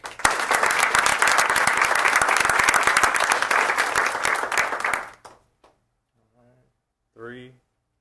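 An audience applauds student Stella at a school board of education meeting, a dense, loud burst of clapping for about five seconds that stops abruptly, followed by a few faint knocks and a brief voice.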